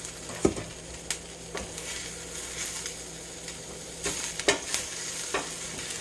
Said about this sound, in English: I'm going to mix this all together because I want them to fellowship